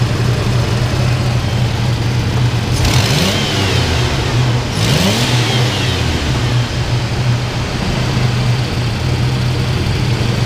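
A 1998 Ford Ranger farm truck with a 3.0 engine idles roughly with a steady, low throbbing drone, broken by two quick throttle blips that rise and fall before it settles back to idle.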